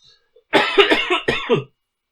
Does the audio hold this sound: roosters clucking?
no